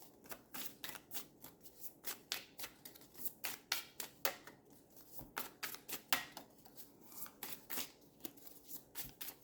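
A deck of tarot cards is riffled and shuffled by hand in quick, rhythmic bursts of papery flicks and slaps, close up and continuous, with no talking.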